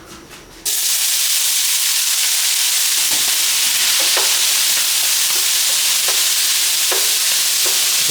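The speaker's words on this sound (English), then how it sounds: "The ham is being cooked in that crushed garlic and that sweet" Hickory ham sizzles in hot oil with crushed garlic and chopped sweet and jalapeno peppers, a loud, steady frying hiss that starts abruptly and runs throughout, with occasional faint clicks from stirring.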